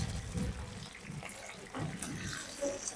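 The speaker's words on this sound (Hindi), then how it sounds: "एक तरफ फ्राई करने के बाद अब इसको मैं दूसरी तरफ से भी फ्राई कर लूँगा।" Fish pieces fry in oil in a pan, a close, continuous bubbling sizzle with faint crackles, heard alone without talking.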